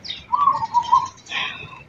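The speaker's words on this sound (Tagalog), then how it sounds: "Ibon." Birds call in short bursts outdoors near a farm where the trees have lost most of their leaves, a steady warbling tone followed by a brighter chirping flurry, fairly close and clear over quiet background.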